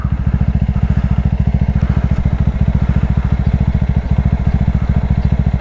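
A Bajaj Dominar 400 motorcycle idles close by, its single-cylinder engine thumping in a fast, even, steady beat with light mechanical clatter and no voices.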